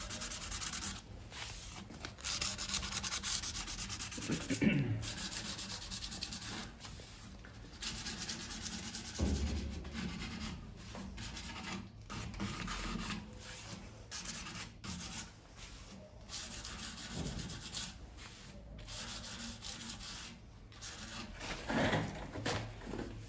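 Sandpaper rubs steadily over a handmade wooden bağlama (saz), a continuous scratchy abrasion broken by brief pauses and strokes, close and alone without voices.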